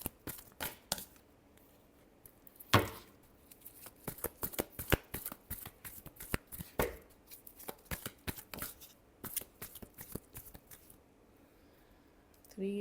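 Tarot cards shuffled by hand, heard close up as a long run of crisp, irregular riffles, slaps and flicks with brief pauses between bursts.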